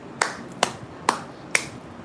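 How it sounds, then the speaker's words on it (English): A single person claps their own hands five times, sharp isolated claps spaced about half a second apart in a quiet room with no talk. "God gave you 2 hands to clap for yourself"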